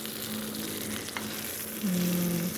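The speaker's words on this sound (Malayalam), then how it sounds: "വറ്റൽമുളക്, ഒരു കഷ്ണം പുളി, പിന്നെ കറിവേപ്പില. വെളിച്ചെണ്ണയിൽ വെച്ച് മൂപ്പിക്കാം." Dried red chillies, a piece of tamarind and curry leaves frying in coconut oil, a steady soft crackling sizzle with a faint background hum.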